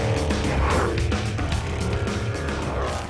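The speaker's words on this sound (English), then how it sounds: "This V8 once powered the BMW M3, but has been tuned up from 420 to" A Veritas RS3 fitted with a tuned V8 from a BMW M3 accelerates hard with a loud, rasping engine roar and rapid gear-like pulses. It sounds close and fills the whole stretch.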